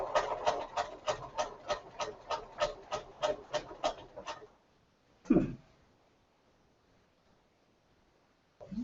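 A Bernina sewing machine stitches in a quick, steady run of about a dozen even beats at medium speed during machine quilting, then stops; a single thump follows in near silence.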